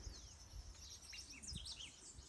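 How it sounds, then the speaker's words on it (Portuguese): Small birds in a garden field chirp and tweet in quick, high, scattered calls, fairly faint over a soft outdoor background with faint insect hum, no speech. "Aqui, ó, os passarinhos andando."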